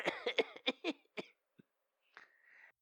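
A burst of several harsh, raspy coughs in quick succession, close and fairly loud, followed by a short wheezy breath.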